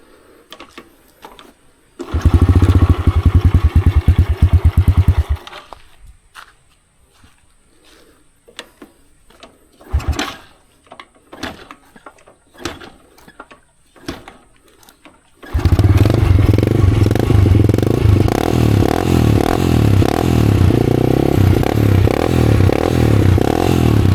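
A modified Yamaha Vega R motorcycle, set up for farm riding, starts with a loud burst of engine running, goes quiet with clicks and scrapes, then restarts and idles steadily, loud and close.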